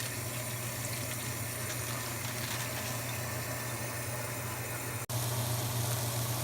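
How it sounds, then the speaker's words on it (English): Spinach being swished around in water to rinse off dirt, a continuous wash of running water with a steady low hum underneath, unbroken and fairly close, with a brief dip near the end. "Just gonna wash the spinach around. Make sure there's no dirt on it."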